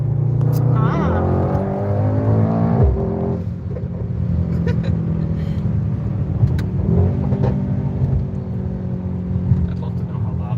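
A 2020 Mercedes-AMG GT 63 S engine accelerates from inside the cabin. Its loud rising drone climbs in pitch through the gears, then drops and builds again, with a person talking over it.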